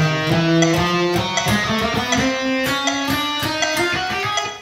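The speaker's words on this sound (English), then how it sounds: "They might really drag when they get there." Guitar picking exercise slowing from 16th notes down to 8th notes, with the playing dragging behind the beat; steady, loud picked notes with a metronome ticking underneath, no voices.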